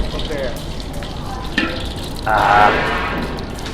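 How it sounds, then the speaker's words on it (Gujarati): Steady hot-oil sizzle with a few sharp pops and crackles, close by, swelling louder partway through as mustard seeds splutter in the pan. "ચાલો આ રાઈ કકડી ગઈ છે"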